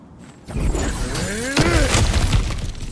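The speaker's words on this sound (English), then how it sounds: "back to smashing through things for fun and profit" Breakable objects shattering in God of War Ragnarok, a sharp crash near the start followed by a second burst of breaking debris, loud and close, with a voice in the background.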